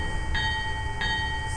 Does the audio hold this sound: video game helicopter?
no